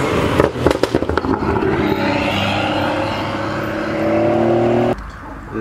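A Peugeot 308 GTI drives past at a car meet, starting with a few sharp engine pops and then a rising, sweeping engine note that cuts off abruptly near the end.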